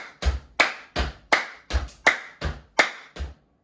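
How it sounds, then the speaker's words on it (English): Nine evenly spaced hits of stamping feet and clapping hands in a steady beginner djembe groove, each sharp and close, with no talking. "Let's stamp and clap."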